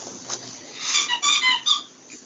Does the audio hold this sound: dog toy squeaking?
yes